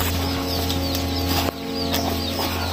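A chicken clucks close by in short irregular bursts over a steady low hum, with faint rustling between calls.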